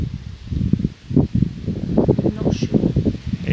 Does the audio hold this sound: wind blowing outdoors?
yes